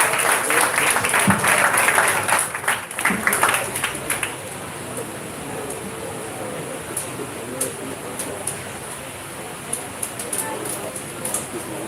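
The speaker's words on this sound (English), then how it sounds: "Give him a big round of applause in his absence," Audience applause at a community event in the parish of Trelawny, loud and dense for the first few seconds, then thinning out into scattered claps and crowd murmur.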